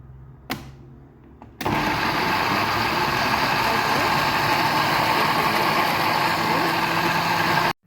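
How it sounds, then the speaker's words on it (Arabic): A quiet room with a couple of brief clicks, then a blender motor kicks on abruptly into a loud, steady whirring drone that runs several seconds before cutting off. "انا زي ما قلت لكم كده عملت في الخلاط"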